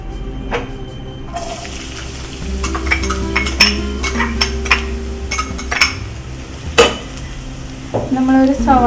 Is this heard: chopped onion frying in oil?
yes